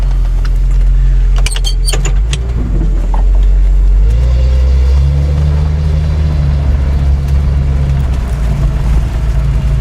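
A Datsun 280Z engine rumbles steadily with a deep, throaty exhaust roar throughout, loud and close, with a few metallic jingles early on.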